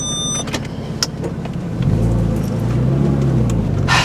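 A speed yellow Porsche Cayman S, rebuilt after a crash, pulls away on a short test drive; engine and road noise rise to a steady, close, fairly loud hum with no talking.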